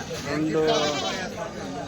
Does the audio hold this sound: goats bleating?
yes